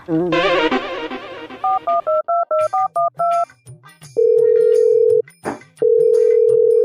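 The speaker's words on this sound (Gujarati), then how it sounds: "લાઈને ફોન કરવા દે હમણાં કરો ફોન કરો" A telephone number is dialed on a keypad: a quick run of short, evenly spaced beeps, then two long, steady ringing tones with a brief pause between them, loud and close.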